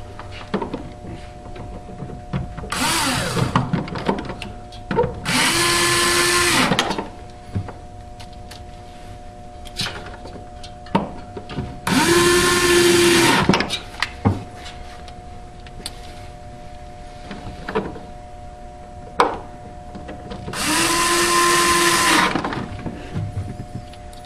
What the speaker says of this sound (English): Reinstall the 4 screws that you take off.